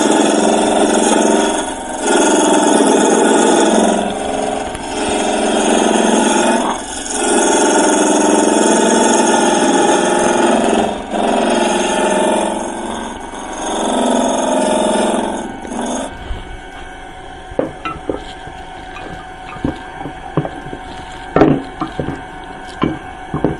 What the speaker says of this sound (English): take our intermediate gouge, and we're going to take some material out here